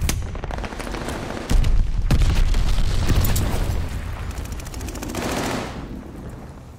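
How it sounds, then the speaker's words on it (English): A glide bomb incoming during Call of Duty: Vanguard multiplayer on PS5, heard as a loud, sustained roaring rumble mixed with gunfire that swells after the first second and gradually fades away toward the end. "Enemy's got a glide bomb incoming."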